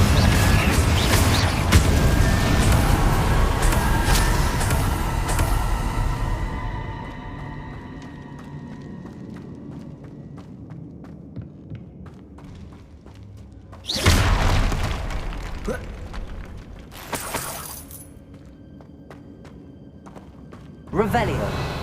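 Confringo blasting spell cast in Hogwarts Legacy, a loud broadband burst at the start fading over several seconds, then two more sharp blasts later, with game music underneath.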